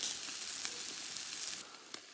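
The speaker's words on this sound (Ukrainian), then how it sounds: "Оце смажу, друзі" Loud, close hiss and crackle of food frying, steady throughout, easing slightly near the end with a sharp pop.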